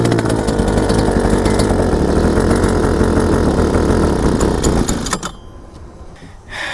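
A small, cheap outboard motor for tiny boats and kayaks idles loudly with the choke off, a buzzing two-stroke drone that runs steadily for several seconds and then cuts out abruptly.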